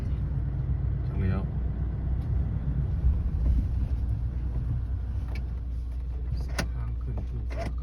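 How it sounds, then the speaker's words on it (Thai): A truck rolls down a steep, muddy mountain road in Laos, its engine a steady low rumble close by under excited talk, with a few sharp creaks and knocks near the end. "รถบรรทุกมันไหลลงมานะ"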